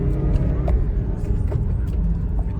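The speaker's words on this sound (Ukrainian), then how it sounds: "автомобіль набирає обертів." Diesel engine of a 2015 Honda CR-V with a 1.6 litre engine and manual gearbox pulling away and revving up from inside the cabin, a steady low rumble rising slightly in pitch throughout.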